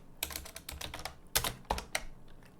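Typing on a computer keyboard while filling out a role-playing game character sheet, a quick uneven run of close, light key clicks with a few sharper taps.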